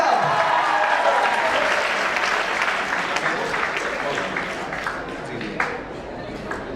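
Audience applause at a university event, steady loud clapping from a large crowd that continues throughout, gradually easing toward the end.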